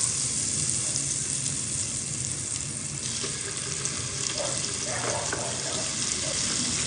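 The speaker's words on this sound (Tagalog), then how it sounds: "Nagpainit lang ako ng butter, tapos dinagdagan ko ng konting mantika para hindi po masunog yung butter natin." Butter with a little added oil heating in a pan for chicken Alfredo pasta, giving a steady, dense sizzle and crackle that runs throughout with a few louder spits near the end.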